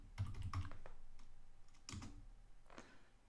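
Keys on a computer keyboard are tapped in short, quiet bursts during a bootloader repair session, a few quick clicks followed by pauses, close and otherwise alone.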